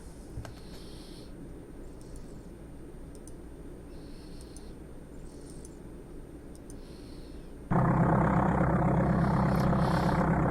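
A Cessna aircraft engine in the Amiga game Flight Simulator II drones low and steady, then jumps abruptly to a louder, buzzier roar near the end.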